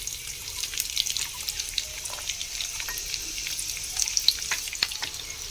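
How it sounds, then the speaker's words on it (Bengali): Chopped onion frying in hot oil in a pan for a Bengali egg curry: a steady close hiss and crackle with scattered sharper pops, continuing evenly without voices. "দিয়ে পেঁয়াজটা ভেজে নেব লাল লাল করে।"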